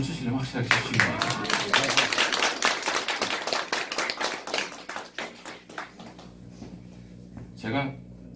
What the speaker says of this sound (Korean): 박수를 치시려면 확실하게 치시기 바랍니다